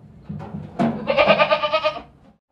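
A tall black-and-white goat bleats once, loud and close, with a long wavering cry over faint background noise at a livestock market.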